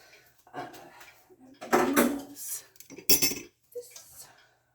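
Pumpkin roll batter being spread in a greased, parchment-lined baking pan, heard as intermittent scraping and clinking of a utensil against the pan in uneven bursts, with quiet gaps between them.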